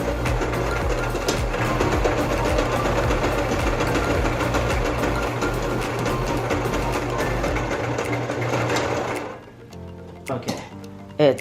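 A home sewing machine runs continuously and close while stitching a fabric face mask, a dense mechanical whir lasting most of the time before it slows and stops into scattered clicks.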